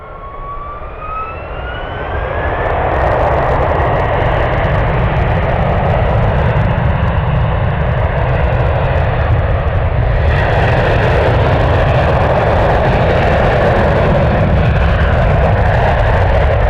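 An Alaska Airlines jet arriving from Kahului at SFO swells into a loud, sustained jet roar with a rising whine, building over the first seconds and then holding steady close by.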